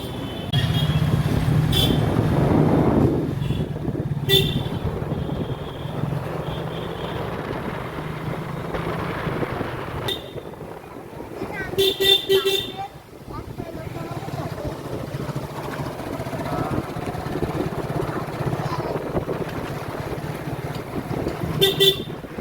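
Vehicle horns toot in street traffic heard from a bus ride in Bangladesh, a few short honks over a steady engine and road rumble, with voices talking nearby.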